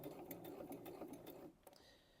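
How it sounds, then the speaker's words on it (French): A domestic sewing machine stitches fabric forward and back in a steady, rapid mechanical chatter with rhythmic needle clicks, close and clear, then stops abruptly with a few faint mechanical ticks. "on va continuer à coudre jusqu'à ce que l'aiguille de la machine pique pile dans la bissectrice"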